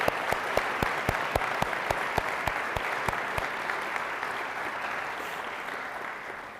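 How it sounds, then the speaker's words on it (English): An audience claps at a university lecture, starting with sharp, distinct hand claps that blend into steady, sustained applause before slowly tapering off. "So I ask you to give a warm hand of applause."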